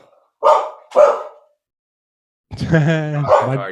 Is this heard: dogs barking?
yes